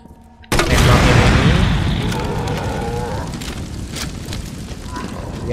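A GM79 grenade launcher in Resident Evil 2 fires with one sudden, loud, close boom, followed by a long, heavy rumble that slowly fades.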